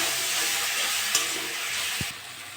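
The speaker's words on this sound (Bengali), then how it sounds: "মশলাটা কষে নেবো, তার জন্য একটু জল দিয়ে দেবো।" Masala with tomato and a splash of water sautéed in a pan, a steady close hiss and sizzle throughout, with a few light clicks of a spoon against the pan.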